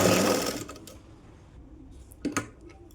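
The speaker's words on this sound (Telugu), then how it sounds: "ఇంకా కుచ్చు పెట్టుకుంటున్నాను నేను." A sewing machine stitches gathers into a baby frock. A short, fast, close whirring burst of stitching is followed by quiet handling and a couple of light mechanical clicks.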